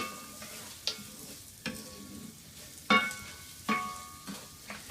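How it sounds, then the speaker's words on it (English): Rice grains stirred through butter and oil in a hot pan, a spoon scraping in several distinct strokes roughly every second over a soft, steady sizzle, close and fairly quiet. "we're going to stir it up, make sure every little grain gets coated with all the nice butter"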